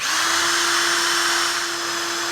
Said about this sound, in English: We got the axle chucked up to a drill.